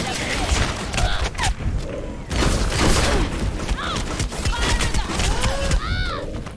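A hero's gun in the video game Overwatch fires in rapid bursts, loud and punchy, mixed with explosions and other game effects and with brief metallic chimes layered over the battle.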